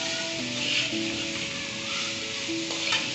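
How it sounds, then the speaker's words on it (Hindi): Vegetables and chicken stir-fry in a hot pan for egg fried rice, producing a loud, continuous close-up sizzle with occasional stirring scrapes and no talking. "अब इसको हम मज़ीद 2 से 3 मिनट फ्राई करेंगे"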